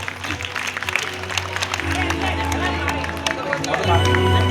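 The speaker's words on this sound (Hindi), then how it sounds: "एक बार तालियां बजा के सभी" An audience at a Shivratri festival gathering in Ahmedabad claps to welcome a woman; steady, dense applause close by, with a voice speaking over it and a sustained musical drone building toward the end.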